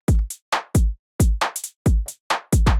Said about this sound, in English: If we play it together with the kick and the snare and rim shot.